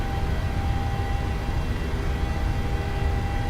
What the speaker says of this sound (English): Takeoff power set.